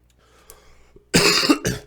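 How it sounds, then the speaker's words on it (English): After a quiet moment, a person coughs twice in quick succession, close and harsh, the first burst longer than the second. "Sorry about all the coughing"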